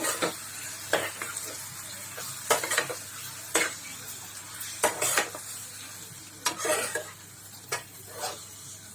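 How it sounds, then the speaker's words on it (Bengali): Chicken sizzles as it is stir-fried in a pan, a steady hiss broken by repeated scraping and clinking strokes of a spoon against the metal, close up with no voices. "একটু চিকেনটা নাড়াচাড়া বা একটু ভাজা ভাজা হোক"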